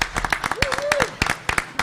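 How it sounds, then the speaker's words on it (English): Attendees at a school board meeting give a round of applause, uneven clapping in bursts with a voice speaking over it briefly. "let's give Miss Jenkins a round of applause"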